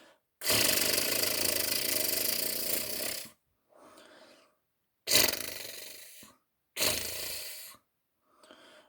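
A voice imitating a machine gun with long rapid rattling bursts, several in a row separated by brief pauses and softer breaths.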